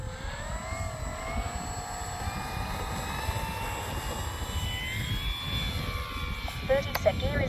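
A Dynam ME BF-109 radio-controlled model warbirds its electric motor through a takeoff run, a whining tone rising steadily over a breezy outdoor rumble, with someone talking nearby.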